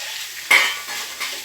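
Chopped chapati and egg being stirred in a hot pan, with a short, sharp scrape of a utensil against the metal over a soft sizzle, followed by a fainter second stir.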